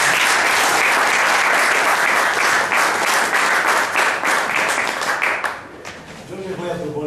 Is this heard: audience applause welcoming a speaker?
yes